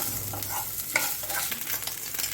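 Garlic cloves and finely grated ginger sauté in a pan for a ragi soup, a steady close sizzle with light stirring scrapes throughout.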